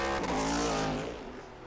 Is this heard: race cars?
yes